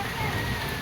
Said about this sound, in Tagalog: Yan, inabutan na rin ng ulan.